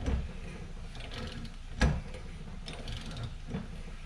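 Threaded jack screw being wound to press a control arm bushing into place, producing soft ratcheting mechanical clicks and creaks with a sharper thunk near the middle, close up and without speech.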